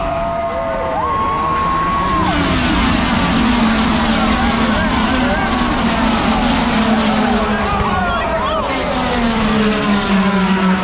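Indy 500 race cars roaring away at the race start, a dense continuous engine wail with rising and falling pitch, loud and unbroken, blended with crowd noise.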